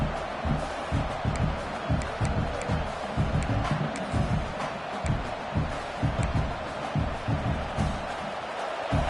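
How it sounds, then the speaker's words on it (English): A large college football stadium crowd roars steadily during a red zone defensive stand, a dense wash of cheering and shouting that swells and holds throughout. "And here comes the noise. This crowd is trying to inspire this defense to make a big red zone stop."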